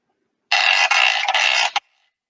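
A percussion instrument is scraped in one rasping stroke lasting just over a second, loud and close, ending with a brief final scratch before silence.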